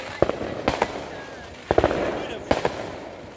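Fireworks cake firing several bursts of shots, in short spaced clusters of sharp pops with crackling tails, fairly near, with people talking around them.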